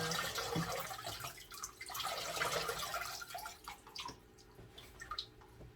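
Water poured over a potted orchid in chunky bark, trickling with soft splashes and drips, close by and fairly quiet, continuing in uneven bursts.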